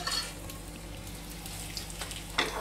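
Steamed bread slices fry in a pan of oil with mustard seeds, cumin and curry leaves, a continuous moderate sizzle with occasional stirring scrapes near the end.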